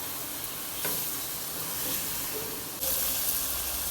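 Medium tomatoes dropped into a hot pan for chicken biryani, giving a bright, steady sizzle and hiss with a couple of louder surges as they hit the oil and are stirred.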